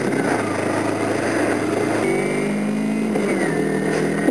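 A Kawasaki Ninja motorcycle engine revs steadily and loudly while the bike rides through snow, its pitch stepping down around two seconds and shifting again past three, a continuous close drone throughout.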